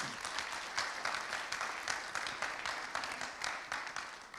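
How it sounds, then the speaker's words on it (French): Conference audience applauding after a talk on semantic AI, a fairly faint but steady patter of many hands clapping, heard from a distance for a few seconds with no voices over it. "on peut vous applaudir pour ce témoignage."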